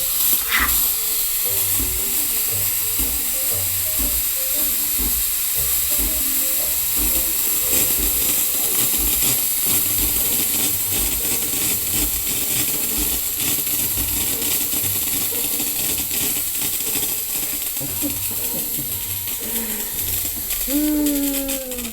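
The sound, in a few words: milk frother steam wand hissing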